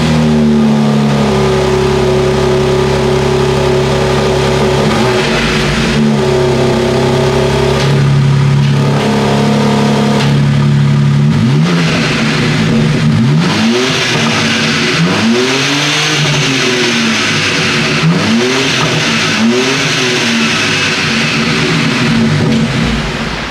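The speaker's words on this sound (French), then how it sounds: "maintenant je vais vous la démarrer et on va passer au son." A BMW M car engine starts up with a loud crank and then idles, then blips through several sharp revs that rise and fall, close and loud with no talking.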